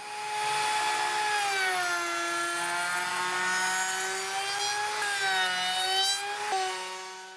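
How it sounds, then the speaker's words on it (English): A wood router fitted with a large roundover bit shapes the edge of a wooden leg support for a coffee table, giving a steady, loud, high motor whine that dips slightly in pitch as it cuts. No one speaks. "I'm going to use the biggest roundover bit I have to roundify the leg support"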